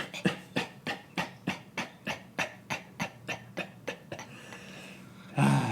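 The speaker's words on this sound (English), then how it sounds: "close it out with 15 gentle coughs" A series of about a dozen short, soft coughs in a steady rhythm, gradually fading, followed by a brief louder noise at the end.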